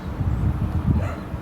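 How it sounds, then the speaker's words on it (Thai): A dog barks from a distance at a durian and mangosteen fruit orchard in Thailand, soft muffled yaps under wind and vehicle rumble, heard from inside a car. "แค่นี้ก็ได้ยินเสียงหมาเห่าแล้ว"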